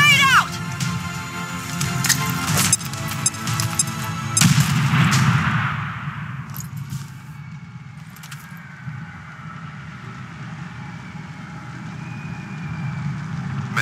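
A grenade blast and bursts of gunfire in the tactical game XCOM 2: sharp transient cracks over a dense rumbling low end for the first few seconds, then a fading boom and a quieter, steady hum.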